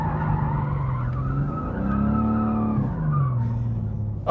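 A 2024 BMW M3 CS or M2 skidding and spinning out while drifting, with loud sustained tire squeal rising and falling over engine noise, heard close.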